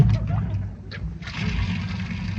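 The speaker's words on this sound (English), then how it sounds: "Now we'll just put the plug back in, run some more water." A radio-show sound effect of bath water running into a bathtub, a steady close pour and trickle that eases slightly in the middle and then continues at a moderate level.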